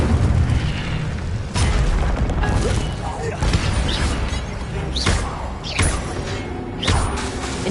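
Incendio fire spell blasts in a video game burst out several times as sharp whooshing booms over a busy game soundscape, with a voice talking in between.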